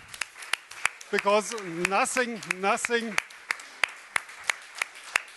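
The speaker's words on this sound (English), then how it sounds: "Big applause." Summit audience clapping in a sparse, uneven rhythm of distinct claps, heard under and after a man's speech that runs through the first half.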